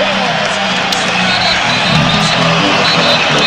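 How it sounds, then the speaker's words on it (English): A packed arena crowd roars at an NCAA men's college basketball game between Kentucky and Texas, late in a close contest. A dense, loud, continuous roar holds steady for the whole stretch. "Crowd on its feet, roaring."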